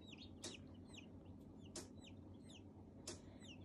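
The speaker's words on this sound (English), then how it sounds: "Can you hear the chirping?" Chicks chirping from inside hatching eggs, faint high peeping calls repeating in quick bursts over a low hum, with a few sharp clicks, quiet and close.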